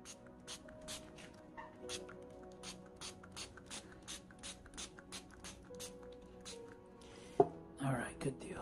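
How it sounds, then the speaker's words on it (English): A spray bottle trigger pumps in a quick rhythmic series of short hissing squirts of water onto mushroom mycelium, close and fairly quiet, followed by a couple of longer sprays. "So now I'll just spray some water in there."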